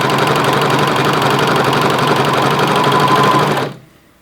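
Sewing machine running steadily while stitching an elastic waistband, a fast even mechanical whir with rapid stitching rhythm, close and loud, stopping abruptly near the end.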